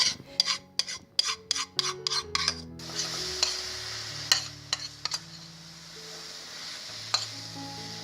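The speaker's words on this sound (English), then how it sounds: "we want to mix in all this with the sugar syrup" Nuts being mixed into sugar syrup for no-bake granola bars make a quick series of rough scraping strokes close by. After these comes a quieter stretch of softer stirring, broken by a few faint clinks.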